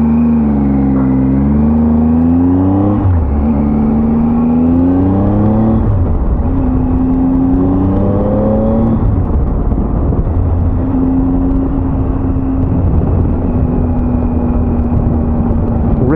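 A car approaches and passes on a desert highway in Death Valley, a loud, steady engine drone with a falling pitch sweep as it goes by, fading into continuous road roar.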